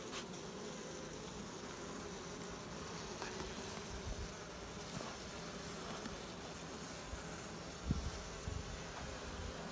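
A dense, steady hum of many bees swarming around an open beehive, continuous and fairly close throughout with no talk, a faint thump near the end.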